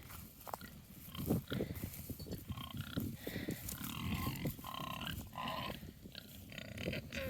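Pig grunting on a farm, a run of rough, close grunts and snorts going on steadily, with other farm noise around them.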